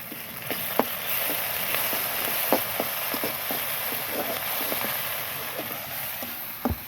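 Garlic paste sizzling in hot oil with browned onions, a steady frying hiss broken by scattered small pops and crackles, with no talking.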